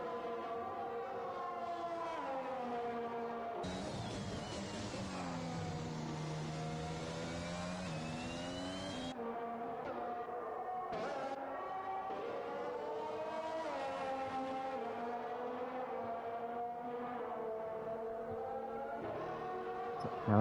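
Formula 1 engines in the F1 2021 video game, racing at the Netherlands round with a leader lapping an Aston Martin, whine continuously, their high-revving pitch rising and falling through gear changes, with several cars overlapping.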